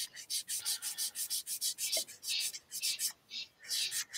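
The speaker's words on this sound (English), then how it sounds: "Sanding sanding in stereo. Synchronized sanding." Sanding a plastic Revell Chinook helicopter model kit, rapid rhythmic rasping strokes, close and steady, with two sanders working at once and a brief pause near the end.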